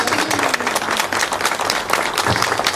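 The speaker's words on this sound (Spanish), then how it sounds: "Le damos un aplauso a nuestra madre." A church congregation breaks into dense, loud applause for a statue of Our Lady of Lourdes, a thick wash of many hands clapping continuously with a faint voice briefly underneath.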